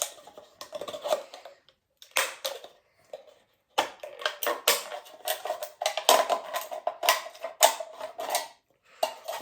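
Snipping and slicing into an aluminium beer can, short bursts of crisp metallic clicks and crinkling in close, irregular clusters separated by pauses.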